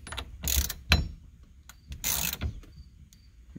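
A ratchet tightens the big nut on an NRG steering wheel hub quick release in two short bursts of rapid clicking, close and moderately loud, with light handling noises in between.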